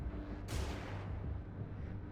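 A flashbang grenade goes off in Xenonauts 2, a sharp, bright burst that cracks out suddenly over a low steady hum, then decays into a dull rumble.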